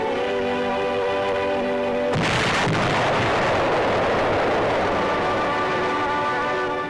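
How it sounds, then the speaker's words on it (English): Ammunition dumps exploding in Bombay harbor in 1944, a sudden loud blast bursting in under sustained newsreel music and then rolling on as a dense, roaring rumble of fire and debris to the end. "The explosion spreads the fire through the entire harbor district."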